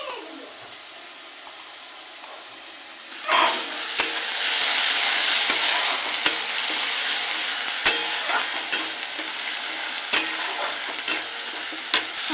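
Spice paste (masala) frying in oil for a hilsa fish curry with poppy seed paste, a soft sizzle that turns loud and busy after a few seconds, with repeated scrapes and clicks of stirring in the pan.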